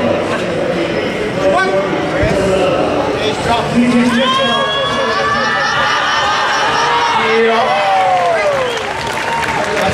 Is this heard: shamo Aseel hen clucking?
no